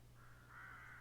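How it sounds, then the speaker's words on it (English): Ravens screech from a tree full of them on a misty day, a faint, sustained, harsh cawing that swells in the second half over a low steady hum, with no voices. "A tree nearby is full of ravens that screech quite a lot."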